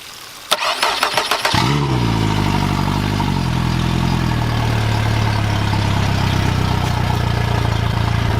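A Suzuki DF140A four-stroke outboard engine cranks with rapid starter clatter, catches, briefly revs, then settles into a loud, steady idle held close for several seconds.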